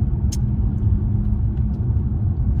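A car travels through the streets of Saint Petersburg, a steady close low engine and road rumble filling the interior with a few faint higher ticks, and no one speaks.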